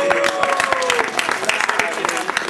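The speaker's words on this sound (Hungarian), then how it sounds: "Hát Nikolátnak is egy nagy tapsot kérünk." Applause from an audience at a Purim 2015 celebration, a brief burst of clapping with children's voices and talk mixed in, fairly close and steady.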